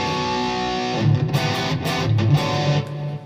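Electric guitar shred lick played fast through a G Deck 3 amplifier, a distorted run of rapid notes with bends, loud and close, no voices.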